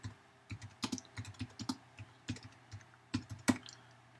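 Rapid, uneven clicking of keys on a computer keyboard, heard up close and fairly quiet, with short bursts of keystrokes separated by brief pauses.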